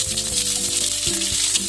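Crackling, popping sizzle of mustard seeds frying in hot oil, steady and close, with a low hum underneath.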